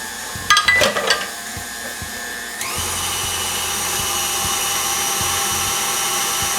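An electric mixer beats butter, sugar and instant vanilla pudding mix in a bowl, starting with a few uneven clattering bursts, then settling into a loud, steady whine that continues without talk.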